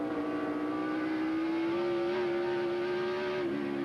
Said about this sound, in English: Wow, he's on the rev limiter there. You can hear the engine cutting out.